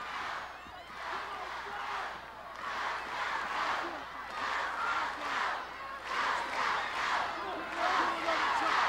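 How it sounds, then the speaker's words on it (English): Wrestling arena crowd cheering and shouting in waves for a women's match, steady and fairly loud, rising and falling without a break. "Listen to the crowd."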